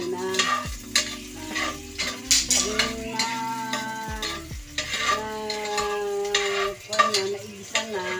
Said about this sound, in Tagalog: Igisa po natin muna yung bawang.